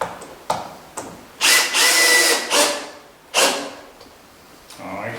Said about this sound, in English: now I am going to drill some more holes here.